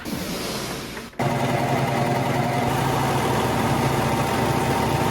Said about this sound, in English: I'm going to use my serger and I'm going to go along these 2 edges here just to seal off any of